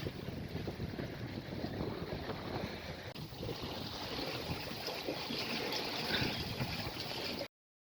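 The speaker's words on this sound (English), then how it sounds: "Gusty conditions here." Gusty wind buffets a reefed sailboat off the British coast, a continuous loud rushing roar with shifting intensity and no voices.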